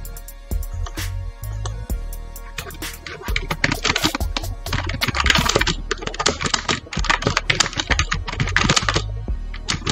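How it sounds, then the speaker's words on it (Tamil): Typing on a computer keyboard with dense, irregular clicks and key taps, close and fairly loud, bursting throughout with brief pauses and a few heavier key strikes near the start. "நான் டெக்ஸ்ட்டில் வந்து டைப் பண்ணிக்கிறேன்"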